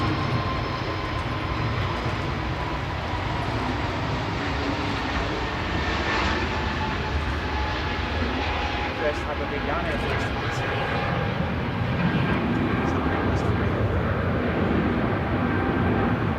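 An EasyJet Airbus A320neo rolls for takeoff at Manchester Airport, a loud, continuous jet engine roar that holds steady, with a commentator talking over it.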